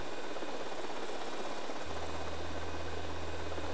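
A helicopter in the video game GTA Vice City gives a steady, dense whir of rotor and engine noise at constant loudness, and a low engine hum joins partway through.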